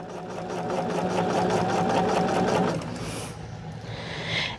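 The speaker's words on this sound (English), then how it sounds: "I've got to sew on both sides of that diagonal line." A sewing machine runs steadily while stitching along a diagonal line on a quilt block, a loud continuous rapid whir lasting about three seconds before it stops, leaving quieter handling sounds.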